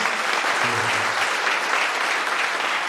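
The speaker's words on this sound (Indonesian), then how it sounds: "Tepuk tangan dulu untuk kita semua." An audience at an Easter youth camp session in Wondama breaks into sustained, lively clapping, a dense wash of applause that holds steady throughout, with a faint voice briefly underneath.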